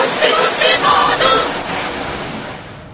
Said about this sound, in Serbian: Pusti, pusti vodu!